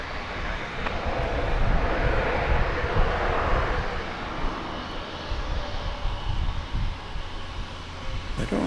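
An airliner taxis at DFW Airport with a steady, broad jet engine roar that swells and eases slightly, moderately near, with no talking.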